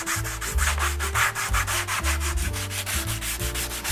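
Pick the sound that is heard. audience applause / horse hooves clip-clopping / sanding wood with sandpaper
sanding wood with sandpaper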